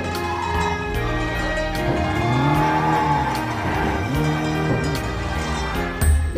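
A stolen car in a video game is driven hard, its engine revving up and down in loud, close sweeps with brief tire squeals, ending in a sudden thump.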